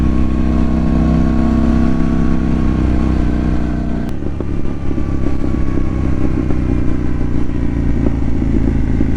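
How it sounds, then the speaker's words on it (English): KTM 790 Duke motorcycle riding a quiet autumn back road, its engine droning steadily and loudly up close, with a change in note partway through as the throttle shifts and some crackle on the overrun. "Listen to a pop and bang"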